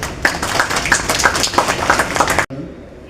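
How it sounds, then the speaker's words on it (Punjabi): An audience claps at a Punjab & Sind Bank NRI customer meeting in Nawanshahr, giving a close, busy patter of many hands with a murmur of crowd noise that cuts off abruptly near the end. "ਆਈ ਥਿੰਕ ਤਾਲੀ ਬੰਦੀ ਸਭ ਰਿਆਂ ਵਾਸਤੇ"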